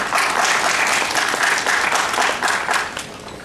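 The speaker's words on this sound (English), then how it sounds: "It's important, I think, to applaud this." Lecture audience at a science talk applauding steadily, a dense wash of many hands clapping close and loud for a few seconds before tapering slightly at the end.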